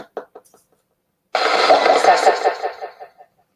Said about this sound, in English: It's an FM sweep and it's got reverb as well, so you'll hear it.